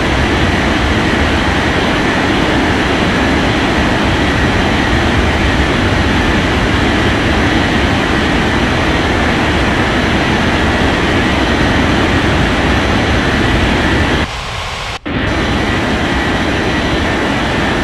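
An airliner takes off in an air traffic control game, a loud, steady engine roar that holds for most of the time, then cuts out briefly before resuming.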